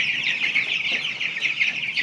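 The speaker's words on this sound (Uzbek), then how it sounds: "Mana shu jo'jalar hozir mana 22 kunlik bo'libdi." Young Andijan black chicks, twenty-two days old, cheep steadily on a small farm, a dense continuous chorus of high peeping from several birds close by.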